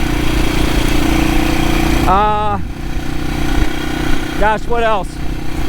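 A 1972 BSA B50SS Gold Star, a 499 cc single-cylinder motorcycle, idles steadily with a loud, even thump throughout while someone talks over it.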